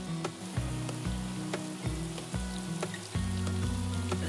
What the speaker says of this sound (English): as the night fell, so did the rain